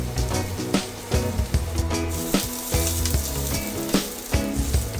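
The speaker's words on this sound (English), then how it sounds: "Add the onion and garlic and fry for 5 minutes until they're soft" Onion and garlic sizzle steadily in hot oil in a pan, a continuous crackling fry with occasional louder pops and stirring knocks, close and fairly loud with no talking.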